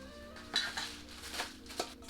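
Metal Omnia stove top oven base plate handled during unboxing, a few faint clinks and light metallic knocks, close and quiet.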